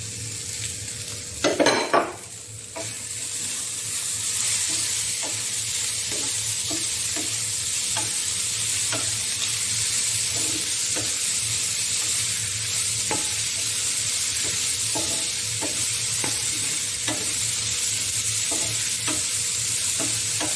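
Shredded cooked chicken stirred and fried in a pan, filling for chicken kunafa: a steady close sizzle with a brief louder scrape early on, then regular light clinks of a utensil against the pan throughout.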